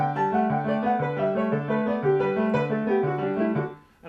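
A jazz piece played live on piano, a brief passage of dense, busy chords and moving lines, fairly loud and close, ending with a short decay.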